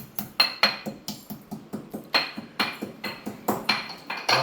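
Whole cloves and cardamom pounded in a mortar: a steady run of sharp, close knocks about four per second, some ringing louder than others, with no voices.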